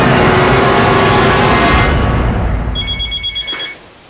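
A telephone rings in a room, with a loud steady ring fading out and then a brief pattern of short electronic ring pulses near the end, no talk over it.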